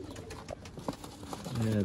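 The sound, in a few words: pigeons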